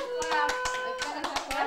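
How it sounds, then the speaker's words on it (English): Irregular hand claps from a small group patter in a room after a children's song at a family gathering, some sharper than others, with a voice talking over them. "Clap, Linda, you're not clapping."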